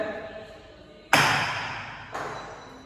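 A non-metal duster is struck twice about a second apart, each hit a dull, fairly loud thud with no ringing, over a steady room hum.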